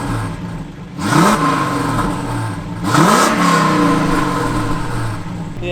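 A straight-piped car with its exhaust valve shut revs hard twice, each blip rising in pitch then falling back to a steady idle rumble, loud and close with no talking.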